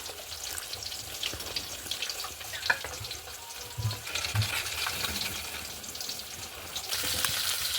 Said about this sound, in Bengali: দেখো মাছটা ভাজা হয়ে গেছে, 2 মিনিট ভাজা হয়ে গেছে।